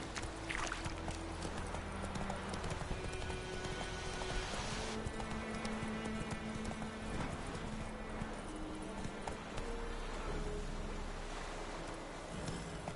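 Horse galloping in The Witcher 3 video game: rapid, steady clip-clop of hooves, close and loud throughout, over ambient game sound with brief musical tones.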